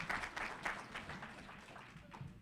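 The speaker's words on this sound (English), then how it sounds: "Put your hands together for Mr. Sterling Finney, Jr." An audience at a youth football awards ceremony applauds, a faint, distant patter of many hands that fades slightly toward the end.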